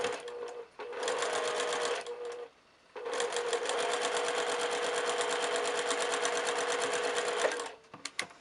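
A sewing machine stitches a quilt block at a 1/4 inch seam in two steady, fast-running passes separated by a short pause, close and even.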